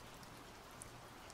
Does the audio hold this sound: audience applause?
no